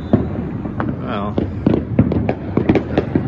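Neighborhood fireworks in Long Beach on the Fourth of July, a steady barrage of sharp bangs and crackling pops overlapping densely with rumbling echoes, with a voice speaking over the din.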